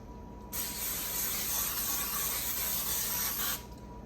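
Baker's Joy baking spray with flour hisses from an aerosol can in one steady, close burst lasting about three seconds, with no talking.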